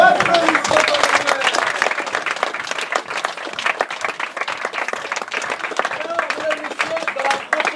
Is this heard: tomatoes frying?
no